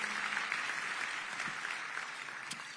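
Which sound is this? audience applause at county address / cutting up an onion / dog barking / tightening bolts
audience applause at county address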